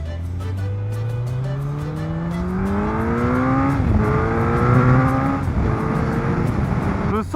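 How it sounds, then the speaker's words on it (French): Suzuki Hayabusa motorcycle accelerating hard from close range, its engine pitch climbing steadily through a gear change and rising again, loud and continuous with no talk. "Attendez, on va refaire une shot accélération."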